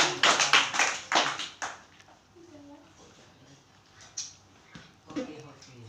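Students in a classroom clap for the first group, a loud run of sharp, quick claps over about two seconds before it drops to quieter talking.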